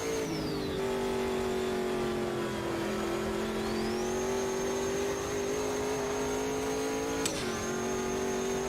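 A race car in Automobilista 2 holds a steady, droning engine note that rises and falls slightly through gear changes, with a higher whine sweeping up and down, loud and constant throughout.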